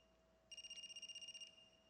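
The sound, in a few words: phone ringing in a video game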